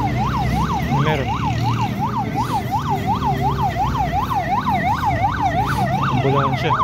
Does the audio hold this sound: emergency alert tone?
no